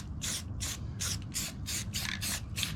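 Camouflage spray paint goes onto an airsoft gun in about eight short hissing bursts from an aerosol can, evenly spaced and fairly close, over a low background rumble.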